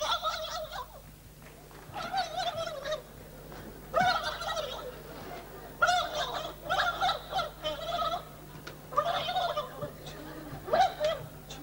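Repeated warbling gobbles in short bursts, loud and close, over a low steady hum, a voice imitating a turkey during a 1996 stage comedy show.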